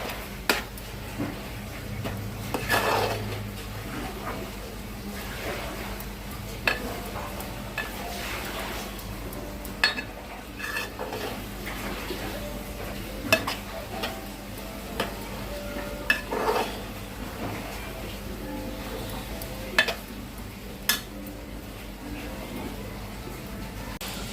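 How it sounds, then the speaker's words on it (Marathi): A sweet filling is sautéed and stirred in a pan, with soft continuous sizzling broken by sharp utensil clinks and scrapes against the pan at irregular intervals, close by and moderately quiet. "तर थोडं अजून त्याला परतवून घ्यायचं।"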